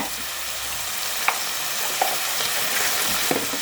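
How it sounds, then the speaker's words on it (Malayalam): Eggplant chilli frying in a pan with chilli powder, turmeric and chicken masala gives a steady sizzle, broken by a few soft scrapes and clinks as it is stirred. "അപ്പോൾ ഇത് നന്നായിട്ടൊന്ന് ഇളക്കി കൊടുക്കാം"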